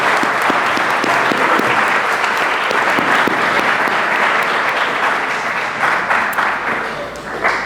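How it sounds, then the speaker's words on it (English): Audience at a college honors convocation gives a dense, sustained round of applause, many hands clapping steadily and loudly for several seconds before tapering slightly at the end. "Let's give them one more round of applause"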